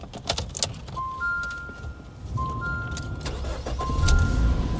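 A key jangles into the ignition of a car, followed by repeated chime tones and an engine turning over and catching into a steady idle, close by with no talk.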